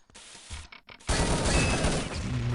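Gunfire in Rainbow Six Siege: a couple of sharp shots, then a dense, loud burst of rapid firing that carries on steadily to the end.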